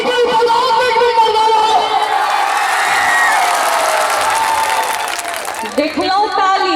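Hands clapping along at a live folk song performance, a crowd applauding and cheering with whoops over lively music and voices, loud and close, thinning out toward the end.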